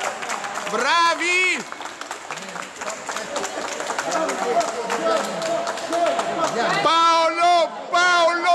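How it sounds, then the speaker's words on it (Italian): Crowd applause and cheering at a May 2013 event honouring the organisers, clapping mixed with shouting voices and chanting, loud and lively, with people calling out over the clapping throughout. "Un grande applauso all'organizzazione!"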